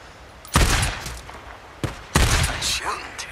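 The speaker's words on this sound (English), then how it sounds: "Nice shooting, Take." Video game gunfire from Days Gone: a few sharp, loud shots in separate bursts, with an in-game voice talking between them.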